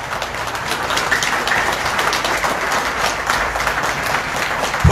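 Steady applause from a crowd at a general meeting of workers' union members, a dense continuous patter of clapping hands that holds at an even level throughout.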